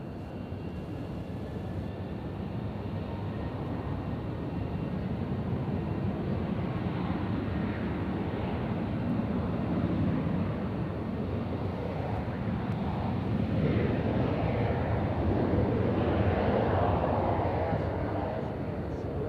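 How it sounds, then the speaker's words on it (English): A jet airplane at Nashville International Airport produces a broad, steady roar that swells gradually, heard from a distance outdoors with wind noise. "That plane right there, folks, is going to Reagan National."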